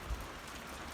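Steady rain falls outdoors on open pasture, a light, even hiss of drops holding constant through the whole second with one brief low thump near the start and no voices.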